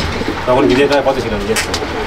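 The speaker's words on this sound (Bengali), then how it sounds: "সেই পুরনো লাইনের পায়রা একজোড়া দেখুন।" Pigeons coo softly and closely in a short burst in a loft, with a steady background hum and some light rustling.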